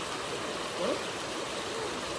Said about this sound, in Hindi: तो ये कोई नदी है जिसका फ्लो इधर से आ रहा है